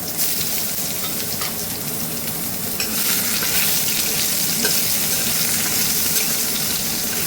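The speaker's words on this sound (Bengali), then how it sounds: "এবার আমি ওই থেতো করে রাখা রসুন আর কাঁচা লঙ্কাটা ফোড়ন দিয়ে দিলাম" Crushed garlic and green chilies hit hot oil in a pan, giving a loud, continuous close sizzle that swells a little partway through, with light stirring scrapes.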